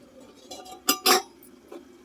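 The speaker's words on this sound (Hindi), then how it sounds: "अब इसे ढक्कन ढक के बनाएं" A metal lid is set onto a cooking pot in a home kitchen while matar paneer simmers, giving two quick, close clinks followed by a fainter tap.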